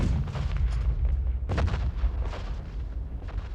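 An artillery barrage from the First World War, rendered as a sound effect: continuous deep rumbling booms with a heavy fresh blast about midway, loud and sustained with no voices.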